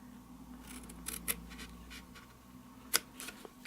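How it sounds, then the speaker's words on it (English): Scissors snip through cardboard box flaps in a few quiet, sharp close cuts spaced apart over a low steady hum. "you cut it straight to that first score line"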